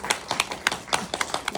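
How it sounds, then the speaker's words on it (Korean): A small audience at a Korean film screening's guest talk gives brief, sparse applause, individual claps distinct and irregular, fairly close, with no talk over them. "박수 한번 주시죠"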